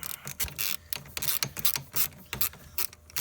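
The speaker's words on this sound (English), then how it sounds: "we'll just go ahead and loosen that bolt up" Ratchet loosening a bolt on the fuel pressure regulator of a 2002-2005 Trailblazer 4.2L, a quick, irregular burst of close clicking strokes with no talk.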